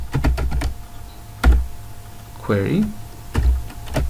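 Code is typed on a computer keyboard in quick clusters of close, crisp key clicks separated by pauses, with a brief spoken passage in the middle.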